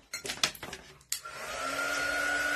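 A handheld hair dryer switches on after a few clinks and knocks, then blows steadily and loudly over a painted craft piece with a constant whining tone.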